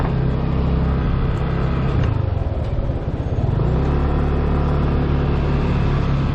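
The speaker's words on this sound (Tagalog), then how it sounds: "Ngayon na lang ulit kami makapag-ride ni Commander ng motor after ng ilang years" Motorcycle engine revving as a ride sets off on a mountain road near Baguio, a loud close rumble that dips briefly mid-way then steadies and climbs again.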